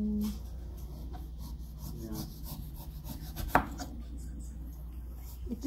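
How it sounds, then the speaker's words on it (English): A knife slices through cooked watermelon with soft, scraping cuts and one sharper knock partway through, close and fairly quiet. "it looks like I'm slicing a squash"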